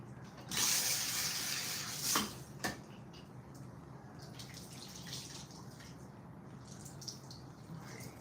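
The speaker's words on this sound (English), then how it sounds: "rinse the conditioner out" Tap water running over a wig to rinse out conditioner, an uneven splashing stream near the start that fades into faint drips and trickles.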